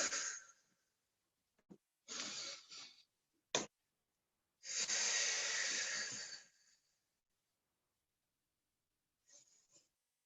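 Deep breathing during an arm circles exercise: several long, airy inhales and exhales in bursts separated by silence, close and fairly quiet, no speech.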